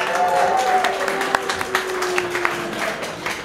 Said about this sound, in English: please give them, again, one more amazing round of applause